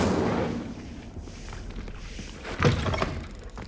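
A fire spell cast in Hogwarts Legacy lands as a single sharp, broadband burst, loud and close, about two-thirds of the way through, over a steady low rumble of game ambience.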